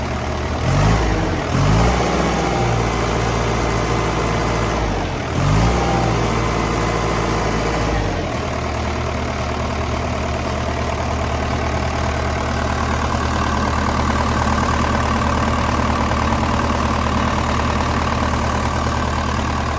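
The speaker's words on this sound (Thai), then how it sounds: "เครื่องยนต์ที่เขาใช้เนี่ยจะเป็นเครื่อ งยนต์ 4 สูบเทอร์โบนะครับตัวนี้นะครับ" A Komatsu WA150-5 wheel loader's four-cylinder turbo diesel idles steadily and loudly up close, with a couple of brief dips early on before settling into an even, continuous rumble; no talking.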